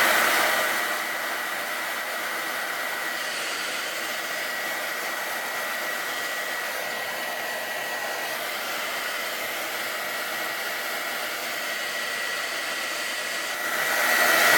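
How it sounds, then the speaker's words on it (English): A hot hair dryer blows steadily on sheepskin, a loud, continuous whooshing whir held for the whole stretch, briefly swelling at the start and end as it moves closer. "all you need to do is hit it with a hot hair dryer"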